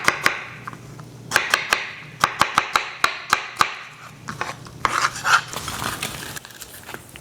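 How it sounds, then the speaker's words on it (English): A knife slices strawberries on a cutting board, with a rapid series of crisp, close taps and scrapes, about a dozen cuts in an uneven rhythm. "So, you just slice your little strawberries or whatever your favorite fruit."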